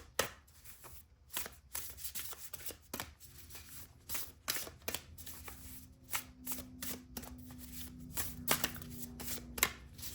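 A deck of tarot cards shuffled by hand, close and quiet, with repeated quick riffling bursts and soft slaps in an uneven rhythm.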